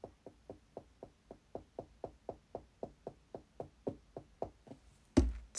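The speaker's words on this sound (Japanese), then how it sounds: "私が今爪をトントンしてました。" Fingernails tap on a chair about fifteen times in a steady, even rhythm, each a crisp, resonant knock close by, with a louder bump at the end.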